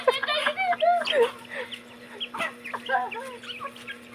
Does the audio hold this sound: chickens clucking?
yes